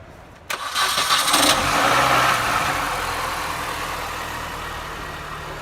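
A small car engine cranks briefly and catches on the first turnover, powered by a portable jump starter, then settles into a steady, close idle that runs on alone.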